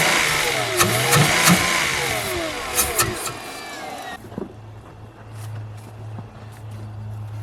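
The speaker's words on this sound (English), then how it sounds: "I know it cranks over and kicks." A Honda Civic rally car's engine cranks over and briefly kicks, with noisy churning that cuts off abruptly and leaves a low hum, heard up close.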